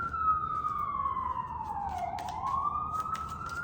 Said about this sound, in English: once the siren starts, it usually lasts for a while